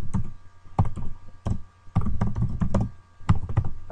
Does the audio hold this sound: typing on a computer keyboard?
yes